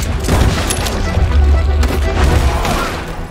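Gunfire rattles in Red Dead Redemption 2, a dense, loud stretch of overlapping shots and booms that fills the whole moment, with game noise all around.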